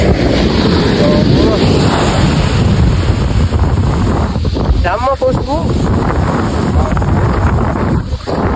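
Sea waves wash onto a beach at Kollam, Kerala, under strong gusting wind that buffets the microphone. The surf rushes steadily throughout while a person speaks briefly.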